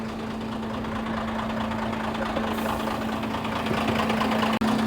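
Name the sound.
company vehicle engine running after being started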